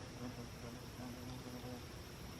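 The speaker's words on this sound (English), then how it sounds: "except for the black flies buzzing around." Black flies buzz around outdoors near a trekking pole tent, a faint steady hum with a few louder passes as insects drift close, over soft open-air background noise.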